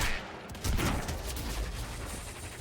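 Sniper gunfire in the video game Quantum Break, with a burst of sharp shots and booming impacts over a dense, noisy battle backdrop.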